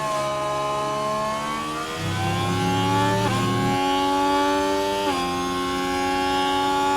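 Ferrari Formula 1 car engine in the F1 Manager 24 racing game at the Bahrain Grand Prix, a loud high-pitched whine that climbs and drops through quick gear shifts, alone without speech.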